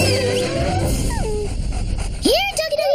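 A cartoon dog in an animated series gives short yips and whimpers while voices talk over it, and a sharp rising whine cuts in near the end.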